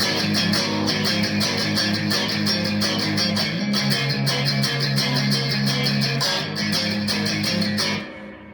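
Electric guitar riff played with mostly downstrokes, a steady driving rhythm of tight chugging strums, loud and close, ending abruptly.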